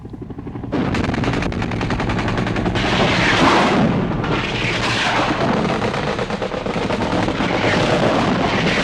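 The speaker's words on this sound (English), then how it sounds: "follow the artillery in, raking the landing zone with machine guns and rockets" Sustained, loud bursts of rapid machine gun fire mixed with heavier booming artillery blasts, a dense continuous barrage with no talking, as helicopters rake a Vietnam War landing zone in 1966.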